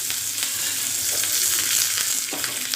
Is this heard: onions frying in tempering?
yes